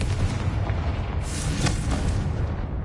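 A Confringo spell in the Hogwarts Legacy video game erupts as a dense, rumbling blast with booming low-end texture, sustained and loud throughout with no voices.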